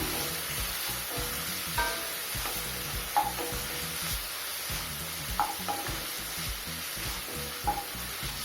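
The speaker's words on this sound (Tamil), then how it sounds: "தக்காளியை லேசாக வதக்கிக்கலாங்க" Tomato sautés in a pan for tomato rasam, giving a steady sizzling hiss. Soft stirring scrapes and a few light taps of a utensil recur throughout at close range, with no talk.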